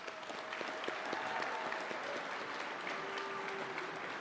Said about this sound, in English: So let's give these girls a round of applause.